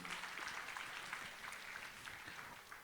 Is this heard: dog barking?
no